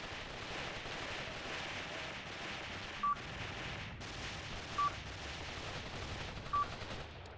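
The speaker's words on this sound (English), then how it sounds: "MGs and mortars are beginning to work." Machine guns and mortars in the WWII game Mius Front give a dense, distant crackle of continuous fire, steady and moderately quiet, broken by three short electronic beeps.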